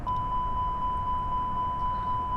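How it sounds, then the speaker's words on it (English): Airbus A320 overspeed warning in Flight Simulator 2020, a steady continuous electronic tone holding throughout over a low cockpit hum. "This is the alarm that we're crossing the speed."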